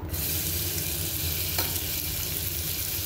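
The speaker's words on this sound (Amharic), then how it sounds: "ዘይት ጥጅ ያለው አሁን ሽንኩርት ጨምራለሁ" Onion dropped into hot oil bursts into a loud, steady sizzle that holds evenly throughout the short stretch, close and alone without any voice.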